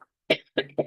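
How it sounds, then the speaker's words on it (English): A woman coughs three times in quick succession, short sharp bursts close to the microphone, with a faint sound just before. "I just had a little coughing fit then."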